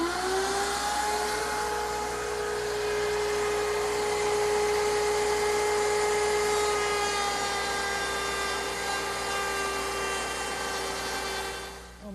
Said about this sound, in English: Now the cutter is a 1/2 inch cove bit, and I've raised it so that it's just slightly above the table to remove the material that I want.